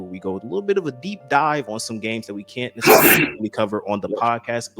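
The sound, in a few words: sneeze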